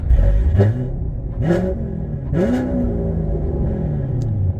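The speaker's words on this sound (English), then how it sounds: "Just a little bit of revving right there." A Chevrolet C7 Corvette Z51 engine revs three times in quick bursts, each rising and falling, then settles into a low idle rumble.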